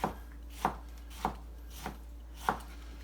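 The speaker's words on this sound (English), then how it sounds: "Put the root through here, cut through that. And then again, letting the knife do all the cutting." A knife chops through an onion on a cutting board for guacamole, five crisp, evenly spaced cuts about every half second, each a sharp close thud over faint background hum, with no voices.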